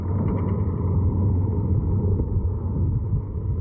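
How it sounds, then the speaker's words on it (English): A Model A car rolls up onto a balancing device, its engine a steady, loud low rumble that holds evenly throughout with no speech over it. "We're driving up on this balancing device."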